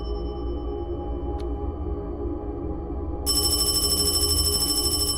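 A telephone rings in an old building in Kowloon at night, a steady electronic trill that starts partway through and repeats evenly over a constant low background hum.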